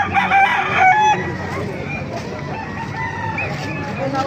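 A rooster at a gamefowl farm in the Philippines crows loudly and close for about a second, with other fowl calling around it and someone talking throughout.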